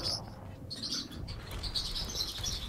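Birds chirp and tweet in an Overwatch match, bright repeated calls with fluttering over a low background rumble of game sound, fairly close and continuous for a few seconds.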